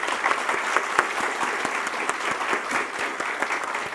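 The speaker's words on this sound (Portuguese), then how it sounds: "eu peço uma salva de palmas pelo ministro do Supremo Tribunal Federal" Sustained applause from a conference audience greeting a Brazilian Supreme Court minister at an opening session on anti-corruption law; dense, steady clapping fills the whole stretch at an even, fairly loud level.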